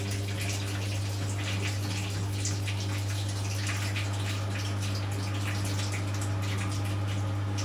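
A Hotpoint WF250 washing machine drains water during a wash cycle, a steady low pump hum beneath continuous splashing and trickling, even and unbroken throughout with no talking.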